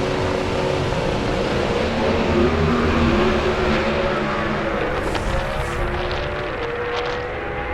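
A Pro Stock truck makes a drag racing run, a loud, sustained roar of engines and rushing noise at a drag strip that fades slightly toward the end.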